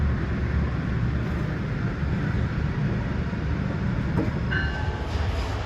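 A CN freight train rolls past near Markham Yard south of Chicago, a steady loud rumble of wagons and wheels filling the scene, with a brief squeal near the end and no voices.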